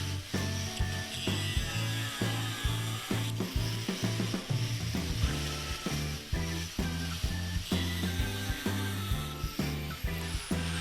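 A masonry wheel grinds steadily through ceramic tile while notch-cutting, a continuous harsh whine with regular pulsing as the blade passes back over the lines, loud and close with no talking.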